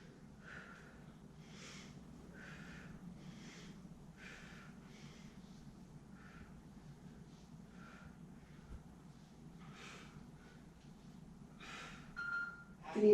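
Heavy, rhythmic breathing in sharp bursts during a shoulders and core workout, close to the microphone with a steady hum beneath and no talking.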